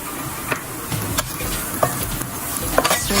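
Garlic and ginger fry with a steady sizzle in a pan while a spice mixture is stirred in, and a spoon scrapes and knocks in irregular bursts close by.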